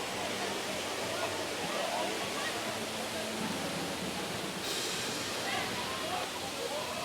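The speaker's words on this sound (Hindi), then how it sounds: "यह नमस्ते झरना है।" Namaste waterfall near Bhedetar in Nepal, a steady broadband rush of falling water heard close and continuous, with speech faintly mixed in.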